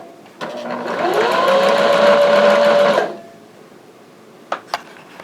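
A sewing machine stitches a fitted fabric face mask in one steady, close run of about two and a half seconds, its motor whirring evenly before stopping; a couple of light clicks follow in the quiet.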